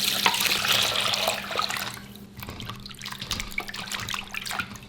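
Clean water runs over pork ribs being rinsed, a steady splashing tap stream with rattling and sloshing in a basin, continuous and close throughout.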